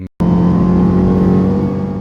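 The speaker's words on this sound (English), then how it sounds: "the first thing you hear when you get in it is definitely that big supercharger whining" A 2017 Dodge Charger Hellcat's supercharged engine sounds up close with a loud, steady mechanical drone, a sustained tonal whine riding over the motor. It cuts in after a brief silence and holds for about two seconds.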